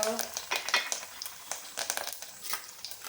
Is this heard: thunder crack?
no